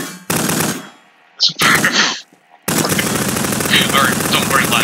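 Rapid automatic gunfire in the Garry's Mod video game, heard in loud bursts broken by short silences, with voices talking over the shooting.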